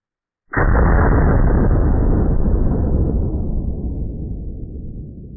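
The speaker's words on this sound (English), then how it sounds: "very fun gun to shoot, and you're going to see why in a couple seconds" A single heavy blast from a .500 Bushwhacker gun fitted with a muzzle brake, a sudden loud boom after brief silence that rolls on as a long, slowly fading roar, with no voices.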